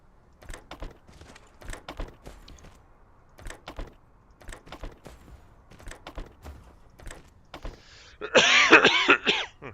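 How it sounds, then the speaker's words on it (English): Repeated coughs and throat clearing close to a microphone, arriving in short bursts, ending in a loud, harsh fit of coughing right against the mic. "I will actually try and move the microphone away from my face before I start coughing like that."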